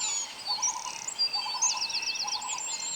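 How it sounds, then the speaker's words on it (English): Forest birds sing together, with bright warbling trills and repeated chirps layered over one another at a moderate distance, steady and unbroken, with no voices. "The birds also sang and happily enjoyed a peaceful day."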